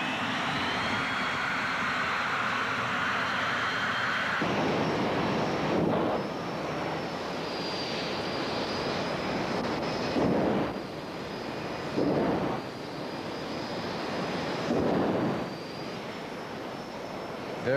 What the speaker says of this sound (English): Colin Fellows in this jet-powered vehicle